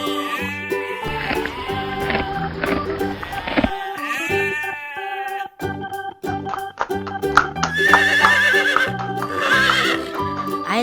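A toy farm horse in a children's animal story gives repeated loud, shrill neighs and whinnies mixed with clip-clop hooves and sheep-like bleats, all in a busy, bright sequence of sound effects without speech.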